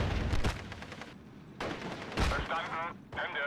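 Unit gunfire in the World War II strategy game Steel Division: Normandy 44, with armoured combat around Pegasus Bridge in Normandy: bursts of shots and booms in several clusters, mixed with battle noise and some talk.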